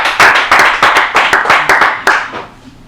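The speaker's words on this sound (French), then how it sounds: "Ça mérite d'acclamation," Quiz show studio audience clapping in a short burst of distinct, loud, fairly rhythmic claps that thin out and fade at the end.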